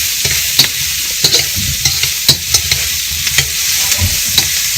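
Garlic, onions and celery sizzle steadily in a hot pan for Hoppin' John, a bright continuous hiss broken by a handful of sharp scraping stirs and utensil knocks, close up with no talking.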